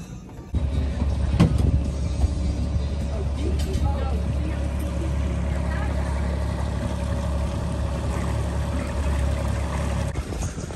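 Tiki boat cruising on the water in Salem, Massachusetts, its motor giving a steady, close, continuous hum and rumble throughout with faint water wash.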